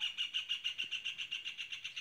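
Birds chirp in a rapid, evenly spaced series of high, bright tweets, about a dozen in two seconds, fairly faint and heard alone.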